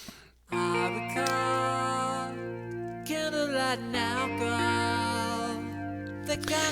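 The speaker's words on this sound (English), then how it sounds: "This is just a drumless mix, so you won't hear any drums." A band plays without any drums: sustained guitars and bass chords ring out with a melodic line on top, steady and full.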